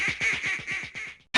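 Quacking from a cartoon duck in the trivia video game You Don't Know Jack: The Ride: a rapid run of about ten loud, nasal quacks, then a brief silence and a sharp burst at the end.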